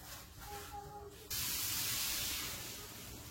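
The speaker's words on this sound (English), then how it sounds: "To get a good sear on your meat, you should have a hot pan or a hot griddle with a little bit of oil in it" Meat ribs sear on a hot, lightly oiled griddle, bursting into a loud, steady hiss as they hit the surface and holding that sizzle to the end.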